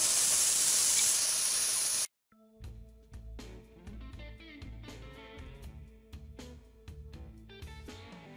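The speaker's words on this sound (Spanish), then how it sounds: "ahora vamos a acomodar nuestros camarones a nuestro sartén" Shrimp in garlic mojo sizzle loudly in a hot frying pan: a dense, steady hiss for about two seconds, then an abrupt cut to quieter tonal sounds.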